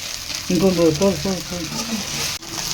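Homemade chicken fried rice with chicken masala and chili powder sizzles loudly in a pan while being stirred. A voice speaks briefly over the continuous frying noise.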